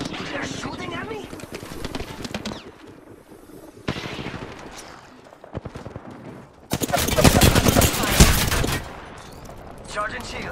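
Automatic and rapid gunfire in the Apex Legends battle royale game, continuous bursts that swell into a loud, dense volley near the end, with game sounds throughout.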